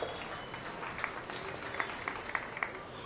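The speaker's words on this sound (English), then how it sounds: "Let's give them a nice big round of applause." Scattered, fairly faint applause from a crowd at a swine show, following a class of barrows. Light clapping with a few sharper claps stands out over a noisy show-barn background.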